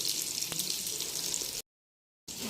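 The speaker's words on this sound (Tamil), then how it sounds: "இங்கே பக்கத்தில் ஃபிஷ் ஃப்ரையும் ரெடி ஆகிட்டுருந்துச்சு" Steady hissing sizzle of fish frying in hot oil, close and continuous, cut by a short silent gap before resuming.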